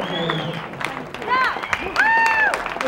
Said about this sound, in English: Let's have a wonderful round of applause